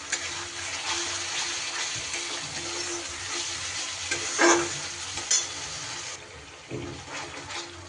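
Tomato paste is added to ginger-chili paste frying in a pan for a pumpkin dish, giving a continuous close sizzle and bubbling with stirring scrapes and a few knocks of the utensil.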